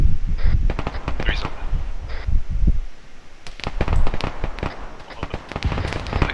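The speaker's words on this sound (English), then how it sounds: "We got shots fired at us." Rapid gunshots from a space combat video game ring out in sharp bursts and scattered single cracks, loud and close, with radio-style voices talking between the volleys.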